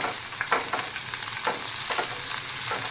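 Garlic fries in oil with cluster beans, giving a constant sizzling hiss broken by soft, regular stirring swishes; nobody talks.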